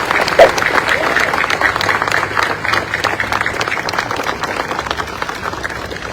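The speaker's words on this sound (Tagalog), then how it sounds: "Pwede ba palakpakan natin ang pinakamalakas kong palakpak?" A crowd at a Manila public event claps together, a broad continuous round of applause at fairly close range, with talk and murmuring blended underneath.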